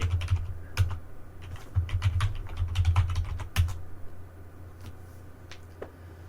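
Computer keyboard typed in quick bursts of close, crisp key clicks, then a few isolated taps as the typing trails off, with no voice over it.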